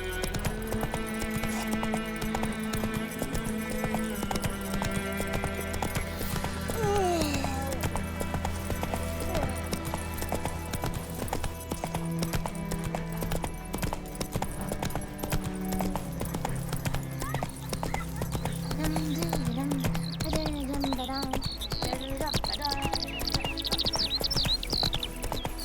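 Roach, the horse in The Witcher 3, gallops in a steady, continuous clip-clop of hooves over game music, with an occasional whinny.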